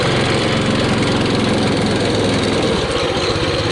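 Small engine on a Baja Warrior minibike running steadily, a loud, close, even putter with no break.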